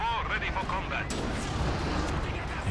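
An artillery barrage fired from base lands in Company of Heroes 2: a sharp, heavy blast breaks in midway over a dense rumble of battle. Someone speaks over the start.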